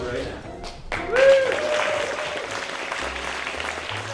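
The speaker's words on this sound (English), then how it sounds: "we're going to give a huge round of applause to team number 1" An audience claps for a team presentation at a startup weekend. Applause swells briefly and then continues at a moderate level beneath a host's voice.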